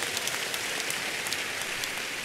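A congregation at a church sermon applauds and cheers for the Lord: steady, dense clapping sustained throughout, loud and close, with no speech over it.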